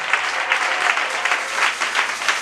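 Church congregation applauding during a French and Swahili service, a loud, continuous rush of many clapping hands with slight rhythmic surges, close and filling the room.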